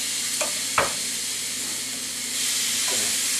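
Grass-fed round steak rolls, stuffed, hit a very hot oiled pan on a medium-high burner, giving a steady close sizzle with a few sharp spits, swelling louder near the end.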